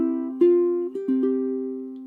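Ukulele plays a chord-melody arrangement, a sustained chord ringing under a melody line, with a few distinct plucked strums about half a second apart, close and clear with no talking.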